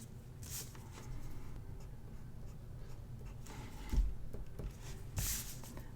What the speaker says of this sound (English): So up here, I'll just write important.